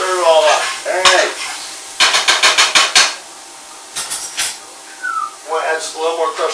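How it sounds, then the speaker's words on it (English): Chicken and rice being stirred with crushed red peppers and garlic, with sharp clinks and rapid clattering of a utensil against a pot in short bursts, plus a person talking intermittently. "you add the crushed red peppers, you add the garlic, and you stir it all up"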